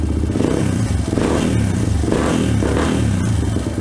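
A Suzuki DR200 motorcycle engine fitted with a new Nibbi Racing carburetor runs and revs with a rough, clattering note, loud and close, rising and falling in short pulses.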